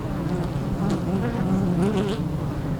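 A swarm of bees hums steadily around a beekeeper, a dense close buzz holding at an even level for the whole stretch, with a few higher whines from individual insects passing near.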